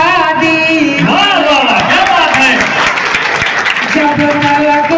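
Audience applause at an all-India Hindi poetry gathering in Sitapur: steady, dense clapping that fills the room for several seconds while a voice chants or recites over it.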